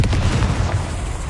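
A Confringo fire spell explodes in the video game Hogwarts Legacy as a short, heavy boom with a thick low rumble that holds loud for about a second.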